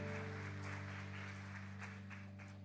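Worshippers at a Portuguese-language communion service clap in a continuous, moderately loud patter, while a steady sustained keyboard or organ tone drones underneath throughout.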